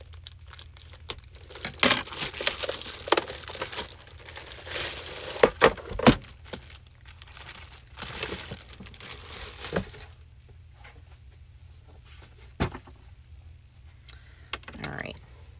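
Plastic wrapping and tape are peeled off a Gina K Fuse foil machine, making close crinkling and tearing bursts with sharp clicks, while a voice talks.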